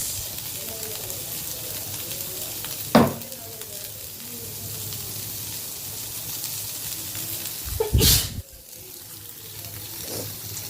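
Onion added to browning potatoes in a pan, a steady sizzle and frying crackle with two sharp clattering stir bursts, close and continuous.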